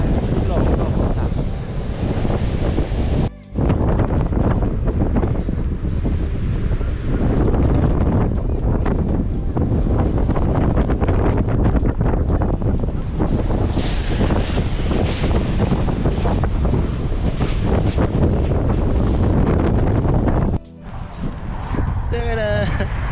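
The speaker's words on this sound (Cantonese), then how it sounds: "因為而家好大風啊" Strong wind buffets the microphone on an Icelandic beach of coarse pebbles, a loud, continuous roar mixed with big surf, with brief drops in the gusting noise.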